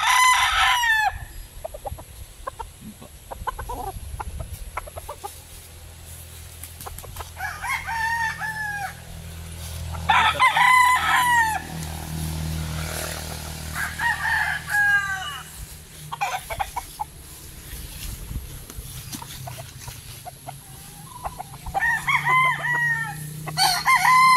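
An eight-month-old local banded sweater gamefowl rooster crows repeatedly at a farm, loud nearby calls separated by clucking and other poultry sounds, with no talk.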